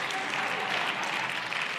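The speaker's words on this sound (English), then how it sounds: "why are they clapping for my failure?" An audience at a live concert event in Rome applauds, a brief, even wash of steady clapping with no pauses, moderately loud throughout.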